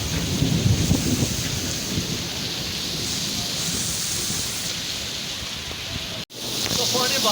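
Steady rain pours during a storm in a Kashmiri village, with low thunder rumbling beneath a dense hiss of falling water that continues without a break.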